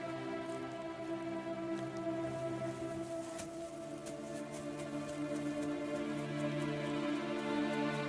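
Steady rain falls during East Africa's long rainy season as an even, continuous soft patter at low volume, with no voices.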